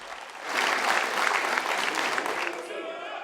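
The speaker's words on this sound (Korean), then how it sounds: "국민의힘은 시정연설을 마친 한 대행을 향해 박수를 치며 엄호에 나섰습니다." Lawmakers in the National Assembly chamber applaud, a dense wash of clapping that swells quickly and holds steady for several seconds before tapering off, with a voice speaking over it.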